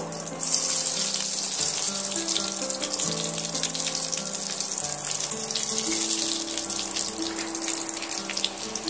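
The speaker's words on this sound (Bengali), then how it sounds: "এবার আমি আগে থেকে যে সিদ্ধ করে আলুগুলো রেখেছিলাম সেইগুলো আমি তেলের মধ্যে দিয়ে দেব।" Boiled potatoes frying in hot oil in a pan, a loud, steady sizzle that holds for the whole stretch, close and without talk.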